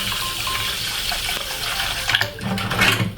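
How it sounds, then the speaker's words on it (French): Cold water splashes and gushes into a colander in a kitchen, close and steady, then ends in a few louder spattering bursts. "Vous ajoutez de l'eau froide"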